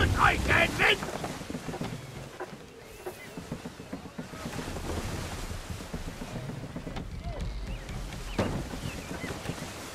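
Sailing ship under full sail in Assassin's Creed 3, with gusting wind roar and rolling wave wash around the hull, loud and continuous with occasional creaks and surges.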